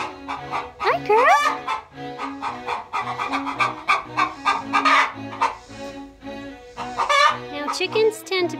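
Hens on a cabin farm keep up busy, overlapping clucks and squawks close by, with a rising call in the first seconds and steady chatter running throughout, no talk.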